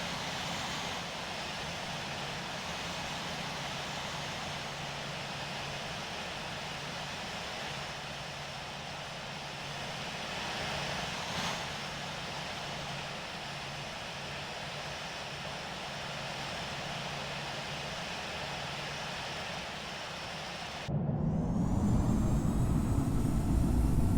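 Boeing 777-200 jet engines taxiing in the Infinite Flight game, a steady, even engine drone throughout that swells louder with a rising whine near the end, no talk.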